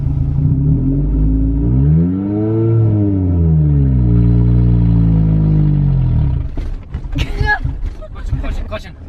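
Engine of a manual-transmission car revving steadily with a rising and falling pitch as a learner driver gives gas, followed by clattering and shifting noises near the end.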